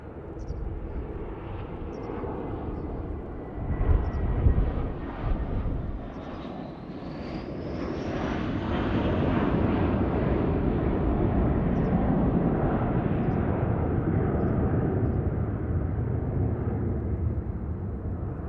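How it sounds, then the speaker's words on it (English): A British Airways Airbus A320-232 goes around during a midday visual approach to Heathrow runway 27L. Its jet engines build into a broad, rising roar that grows louder and holds steady as the aircraft climbs away. "British Airways Flight BA813, an A320-232 from Copenhagen, on a midday visual approach to Heathrow's runway 27L."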